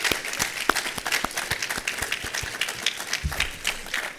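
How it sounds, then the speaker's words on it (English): An audience applauds conference panelists, a moderately sized crowd clapping in a brisk, scattered patter that carries on steadily, heard from a little distance in a hall. "let's give our panelists another round of applause"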